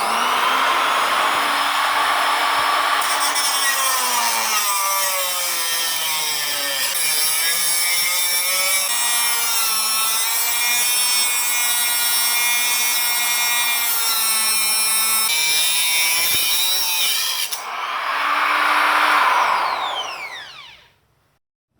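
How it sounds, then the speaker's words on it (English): A grinder cuts a rivet off a motorcycle footpeg pin on a Yamaha R6, giving a loud, sustained high-pitched metallic whine with shifting pitch as the load changes, then a brief rev and wind-down at the end. "So I'm going to probably grind this side,"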